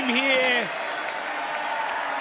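Crowd at a skateboarding event cheering and applauding, a broad wash of clapping and shouts under a loud commentator's voice, with a rising cry near the start.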